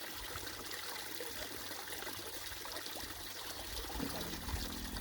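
Water gushes steadily from a 12-volt pump mounted in a side-by-side at a creek on an Alaskan summer day, a continuous close trickling pour with no voices.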